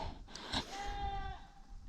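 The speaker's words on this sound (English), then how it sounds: "My goat is screaming and I'm afraid somebody's gonna call animal control on me." A hungry pet goat screams in a long, harsh, wavering bleat, loud and close, lasting most of the moment with no talk over it.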